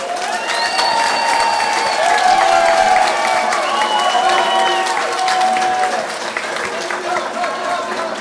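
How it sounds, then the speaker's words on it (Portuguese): Enthusiastic audience applause for singers at a live music show, sustained clapping with cheering and whistle-like shouts rising above, loud and close, easing slightly near the end. "Uma grande salva de palmas para estes cantores"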